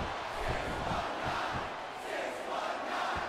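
Arena crowd roaring in the wrestling video game WWE SmackDown vs RAW 2009 during a Rey Mysterio tag team match, a steady, dense wash of cheering that holds at even loudness without pause.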